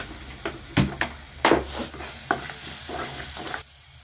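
Crushed ginger and garlic being sautéed in a pan, with a soft sizzle and intermittent scraping and stirring strokes of a spoon, close up and fairly quiet.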